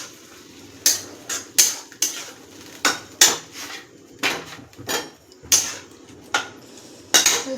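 A spoon scrapes and clinks against a metal pan while a soy sauce mixture is stirred, giving irregular, separate bright knocks and scrapes with quiet gaps between them, close by, with no talking.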